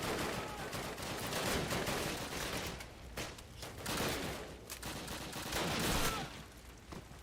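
Rapid video-game gunfire, dense bursts of shots crackling nearly nonstop at close range, swelling in loud waves with brief lulls between volleys.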